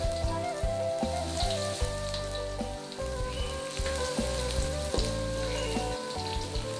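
Shallots fry in hot oil in a wok with a steady, dense sizzle and crackle close by, alone and unbroken throughout.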